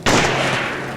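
A single sharp sniper rifle shot in the horror game Forbidden Siren, loud and close, with a sudden attack and a long reverberant tail that fades over the next second, no voices.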